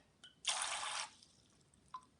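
Water gushing out of a handmade ceramic pot in one short burst after the vacuum inside releases, a quiet close pour lasting about half a second, bracketed by a couple of soft drips.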